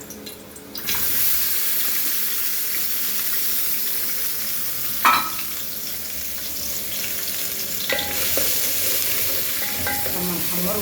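Oil sizzles steadily in a pan for frying garlic, with occasional clinks and a brief scrape or stir in the middle, no voices.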